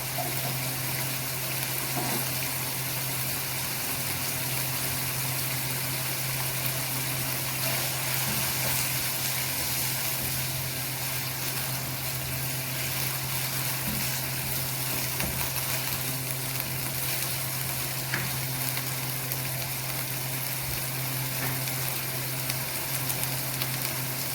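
Garlic ginger paste fries in a pan for pasta with a steady, even sizzle and crackle. It continues unbroken throughout at a moderate level, alongside a constant low hum.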